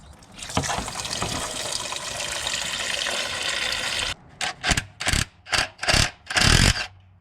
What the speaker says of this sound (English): there's a little bung there to drain the radiator, so we'll pop that bad boy out